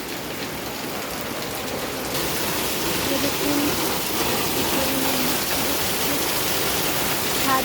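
Heavy monsoon rain pours steadily with water streaming down at a house where the rooms are getting soaked, a dense, loud wash throughout, with a brief voice speaking over it.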